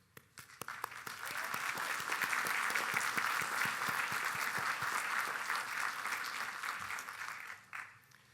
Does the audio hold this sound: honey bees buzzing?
no